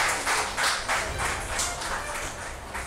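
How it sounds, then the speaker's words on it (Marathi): Applause for an honoree at a World Health Day felicitation on stage, a steady patter of many hands clapping in a hall, lasting a few seconds. "जोरदार टाळ्या सरांसाठी."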